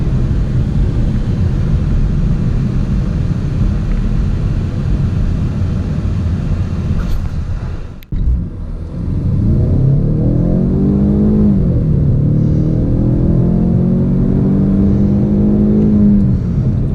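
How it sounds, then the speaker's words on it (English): A 2017 Ford Mustang EcoBoost Premium hard launching from 0 to 60, rear tires spinning as the engine roars loud and close, a brief dip mid-run, then rising and falling revs through the gears. "the back tires were peeling out and it was starting to go sideways before I even took off"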